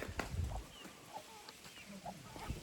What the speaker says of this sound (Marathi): आणि आमचे कोंबड्या गँग बघा, कोंबड्या गँग.